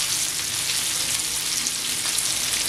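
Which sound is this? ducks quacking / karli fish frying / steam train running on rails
karli fish frying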